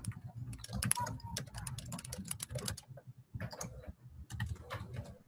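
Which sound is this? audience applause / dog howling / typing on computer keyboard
typing on computer keyboard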